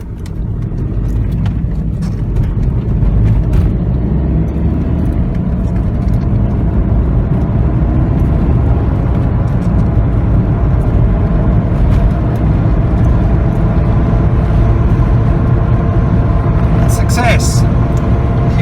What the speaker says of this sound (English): Get the car going, we'll get it up to speed.